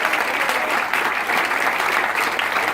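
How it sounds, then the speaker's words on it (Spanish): A church congregation at a night vigil breaks into loud, continuous applause, close and dense, with no pauses and no talk over it. "Denle ese aplauso al Señor esta noche, hermano."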